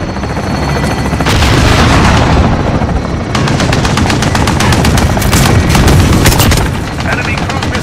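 A friendly gunner fires a machine gun in Call of Duty: Modern Warfare (2019), with loud, sustained rapid bursts over a heavy rumbling drone and dense battle noise throughout.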